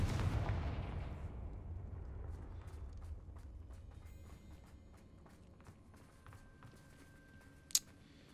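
A Confringo fire spell explodes in Hogwarts Legacy, opening with a deep booming blast that decays into a fading rumble, followed by faint debris and a sharp crack near the end.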